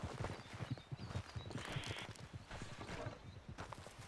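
In the video game Red Dead Redemption 2, a spooked horse's rapid, busy hoofbeats clatter continuously, with snorting and stamping amid the commotion, fairly close.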